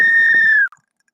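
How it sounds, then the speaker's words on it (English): A single sharp whistle blast, loud and close, holding steady for just over half a second before cutting off abruptly, followed by silence. "just blow this whistle"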